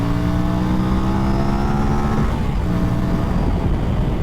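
An Aprilia RS457 motorcycle engine revs loudly and steadily up close, a sustained harmonic roar that holds through the clip and roughens toward the end.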